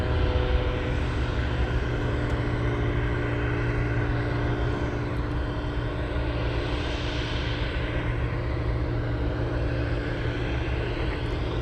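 A Boeing 747 taxiing for takeoff at Anchorage airport, its jet engines holding a loud, steady rumble and whine throughout with a slight swell midway, no voices.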